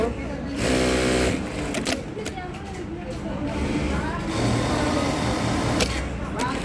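A JAC A5E sewing machine runs steadily up close while ruling a shirt collar, its mechanical whir continuing under someone speaking throughout.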